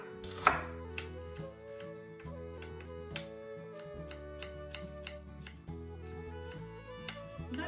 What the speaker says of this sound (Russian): Лук нарезаю достаточно мелко.